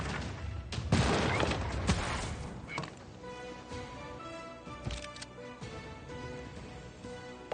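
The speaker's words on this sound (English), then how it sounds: "I'll have field cannons open fire." Field cannons firing in Civilization VI, a rapid burst of booming shots and crashes early on that gives way to quieter game sounds and scattered thuds over a musical background.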